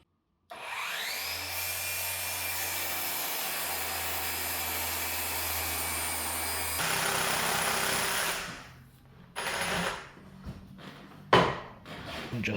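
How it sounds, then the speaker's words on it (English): A power drill bores pilot holes and drives deck screws into a clamped scrap 2x4 for a floor frame, a steady close whirring run broken by short bursts and pauses near the end. "Then I do 2 pilot holes and then put my screws. These are deck screws."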